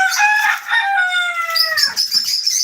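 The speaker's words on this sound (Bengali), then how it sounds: "আমাদের কালেকশনে আরও রয়েছে কলম্বিয়ান লাইট ব্রাহ্মা এটা হচ্ছে মোরগ" A Columbian Light Brahma rooster crows once, loud and close, a long drawn-out call that falls away at the end, followed by a few softer chirps from birds around a farm.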